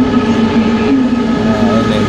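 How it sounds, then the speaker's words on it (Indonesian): A high-speed electric train pulls into a station near Mecca with a steady rumbling roar and a sustained low tonal hum. Loud and close, with no voices. "Kita menunggu kedatangan keretanya. Ini keretanya sudah datang nih ya."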